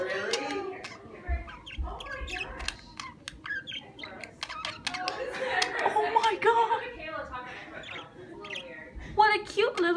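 Pet parakeets chirp and twitter in quick, busy bursts throughout, close and lively, with a person speaking over the birdsong.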